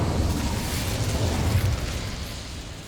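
An Incendio fire spell cast in Hogwarts Legacy gives a steady, loud roaring whoosh of flame with deep rumbling body, sustained throughout and easing slightly near the end, with no talk.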